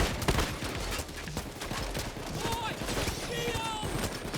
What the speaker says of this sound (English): be keeping my machine gun ready to just start ripping through enemy targets